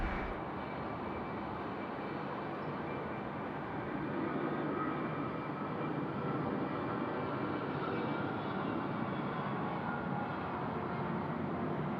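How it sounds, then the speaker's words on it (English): A Q-Jet aircraft departs runway 16 right at Sydney Airport at night, a steady, distant engine roar that holds constant and rumbles throughout. "The Q-Jet departing now."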